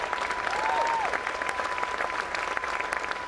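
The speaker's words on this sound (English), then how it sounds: "we could give them a round of applause" Audience applause at a political speech on the economy in New Mexico, a steady wash of clapping filling the room, with a faint tone running through it.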